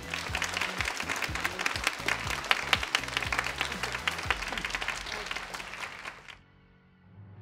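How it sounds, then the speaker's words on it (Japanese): Audience applause at the Tokyo International Film Festival, a dense wash of clapping with some crowd noise mixed in that fades out near the end. "拍手でお迎えください。"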